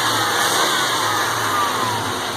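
A 1992 Chevy Silverado Z71 pickup truck's engine runs smoothly, a close, steady, loud mechanical hum without breaks or voices.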